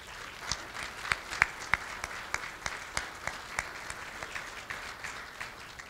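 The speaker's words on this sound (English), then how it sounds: "Let us give you a round of applause." An audience at a school athletic hall of fame ceremony gives soft, somewhat distant applause. The claps come sparse and uneven at first, then thin out gradually toward the end.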